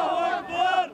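Crowd greeting freed Palestinian prisoners in the West Bank, a brief, loud burst of massed voices shouting and cheering together, close and sustained for about a second.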